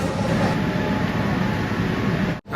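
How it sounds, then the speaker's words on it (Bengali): A Kolkata Green Line metro train pulls out of underground Esplanade station, a loud steady rumble and rail roar filling the platform, ending in a brief abrupt drop. "আমি যে মেট্রো ট্রেনে করে এলাম সেই ট্রেনটি কিন্তু আবার হাওড়া ময়দানে ফিরে যাচ্ছে।"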